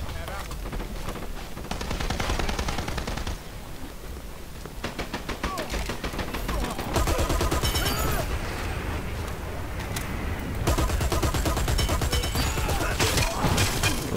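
Gunfire in the online shooter Dirty Bomb, rapid bursts of automatic shots crackling continuously and loudly throughout, with brief lulls and heavier volleys toward the end.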